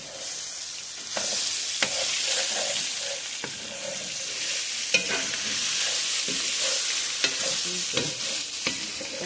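Blackened shrimp frying in a pan, a loud, constant close sizzle broken by frequent clicks and scrapes of stirring, with no talk.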